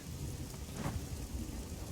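Continuous rain with a low thunder rumble from a rainy area of the video game Dwarf Creator, a steady faint wash of rainfall with a brief swell of thunder in the middle and no talking.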